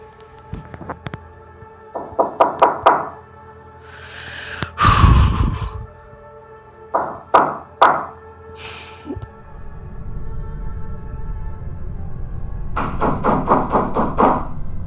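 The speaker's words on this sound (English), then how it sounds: "I hear knocking again." Several groups of quick knocks, some loud and some fainter, separated by pauses, with breathy sounds and a rising rumble toward the end.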